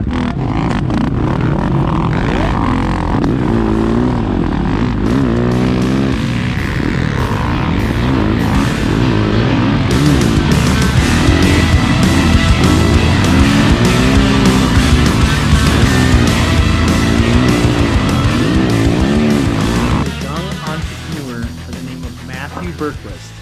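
Snow bike engines rev loudly and continuously up close, the pitch climbing and dropping with throttle blips, while people talk over the roar; the noise eases near the end.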